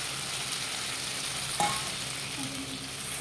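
Fried potatoes sizzle in a pan as cumin, fennel and ginger paste goes in, a steady close crackling hiss with a single sharp clink of a utensil partway through and no talking.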